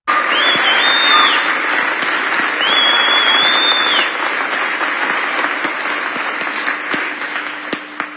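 Loud, sustained applause from a large audience fills the full eight seconds, dense clapping with scattered cheers and a whistle-like tone rising briefly above the crowd.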